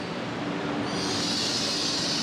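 A train in China rumbles past nearby with a loud, continuous roar of wheels on rails, a rising high-pitched hiss and squeal building partway through, with no voices.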